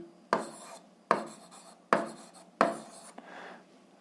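Pen strokes on paper during an eighth-grade algebra exercise: four close, distinct scratching bursts in a fairly even rhythm, each fading quickly before the next, heard alone without speech.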